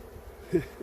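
Honey bees from a newly installed package colony flying at the hive entrance, giving a brief, faint, low buzzing hum with one slightly louder swell as a bee passes close.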